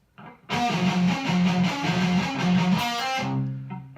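Distorted electric guitar plays a lead part from a song, pedalling an open string under fretted notes in a quick chugging rhythm, loud and close after a brief quiet start, ending on a held chord.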